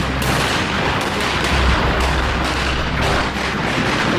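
Gunfire in a staged battle scene from a drama about the Madiun PKI rebellion, a dense, loud barrage of shots and booms sounding continuously across the clip with no talk.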